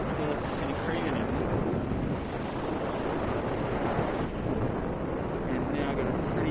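Strong, steady wind roars and buffets across the microphone during a paragliding flight in a crosswind, loud and unbroken, masking any other sound.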